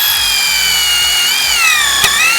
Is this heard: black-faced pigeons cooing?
no